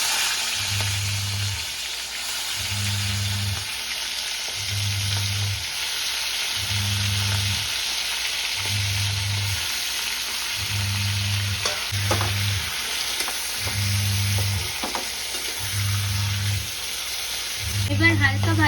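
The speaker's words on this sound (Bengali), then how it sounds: "চিংড়িগুলো হালকা করে ভেজে নেবো।" Prawns lightly frying in oil in a wok for a Bengali prawn do-pyaza, a steady close sizzle with a spatula stirring and scraping in regular repeated strokes throughout, plus a low rhythmic hum pulsing underneath.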